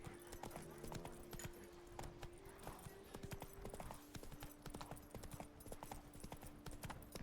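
Horse hooves clip-clop in a steady galloping rhythm in the video game The Witcher 3, continuous and fairly faint, with sustained game music tones underneath and no talking.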